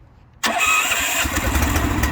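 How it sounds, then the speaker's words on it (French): The engine of a 52-foot Kompak boom lift starts abruptly after near silence and settles straight into a loud, steady idle close by. "Je vais mettre le moteur en marche."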